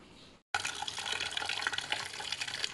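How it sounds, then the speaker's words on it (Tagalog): Water poured into a cooking pot before clams are added: after a brief silence, a steady rushing, splashing stream starts and continues evenly throughout, close and fairly loud. "Lagyan ko lang ng tubig."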